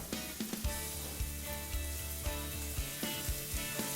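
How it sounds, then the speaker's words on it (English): Scallops sizzle in a hot pan while being stirred for a curried scallop dish, a steady frying hiss with regular scraping knocks from the spoon, close and fairly loud. "let's throw the scallops in there"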